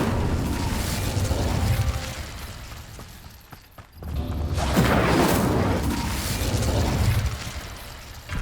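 Incendio fire spell cast in Hogwarts Legacy: a loud whooshing burst of flame that roars and swells, cuts off briefly, then erupts again in a sustained crackling blaze, close and full.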